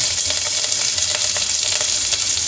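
Green chilli, coriander and curry leaves sauté in hot oil in a pan for a lunch-box rice dish, giving a loud, steady sizzle with faint stirring scrapes and no voices.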